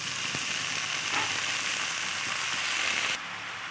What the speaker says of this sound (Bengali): এবার ভালোভাবে নেড়ে চেড়ে শাকটাও ভেজে নেব